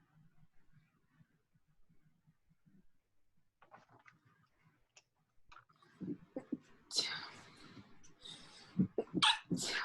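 A sneeze bursts out among quiet background murmurs in an indoor dental practice setting, followed by a couple of sharp breathy bursts near the end.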